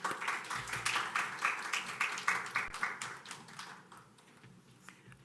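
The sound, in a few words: audience applause welcoming a church speaker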